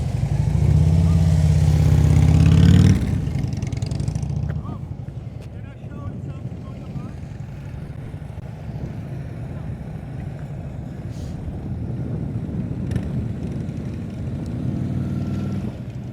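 A motorcycle engine held at low revs during slow-speed riding practice: a loud, steady low rumble for the first few seconds, then a quieter, droning engine hum under wind buffeting for the rest.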